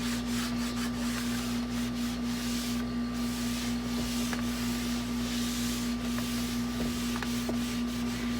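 Rubbing a material along the edge of a dresser during a makeover, heard as a continuous scratchy friction sound over a steady electrical hum, close and fairly loud, with no talking.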